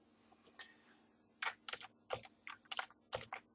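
Close, crisp clicks of a computer keyboard as a number is typed in, a quick irregular run of about eight to ten keystrokes with short gaps and no talking.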